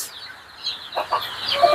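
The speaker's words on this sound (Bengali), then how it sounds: "এই সাইডে আমাদের ডিমের মুরগি" Egg-laying hens on a rooftop farm give a few short clucks, close by and moderately loud, over a soft steady background hiss on a rainy day.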